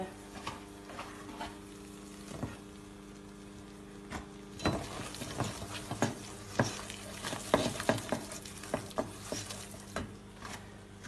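A spoon scrapes and stirs butter and flour together in a hot pan for a seafood pie roux. Soft sizzling sits beneath irregular stirring strokes that grow busier in the second half.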